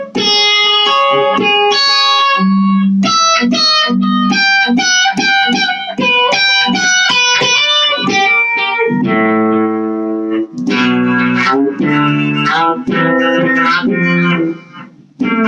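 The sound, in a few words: electric guitar through Blackstar V2 amp with reverb or delay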